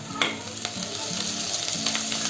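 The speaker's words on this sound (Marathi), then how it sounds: "पण अशा फोडणीमध्ये जर टाकली ना जरा, त्याचा जो तर जो आवाज येतो ना" Coriander hits hot tempering oil for a fish curry, producing a loud, continuous sizzle up close with occasional stirring clicks, and nobody speaks.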